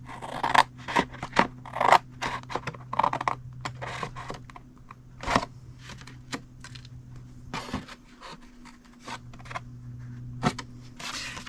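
Scissors snip through scored cardstock while a Stampin' Up! treat box is being made, giving a close series of crisp cuts, rapid at first and then more spaced, over a steady low hum with no talking.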